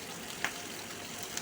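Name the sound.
tempering spices frying in oil: urad dal, garlic, chillies, mustard seeds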